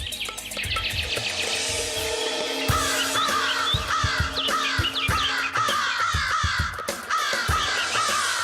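Crows caw harshly over and over in a busy chorus. Loud, overlapping calls repeat in quick succession against a thumping, clattering background.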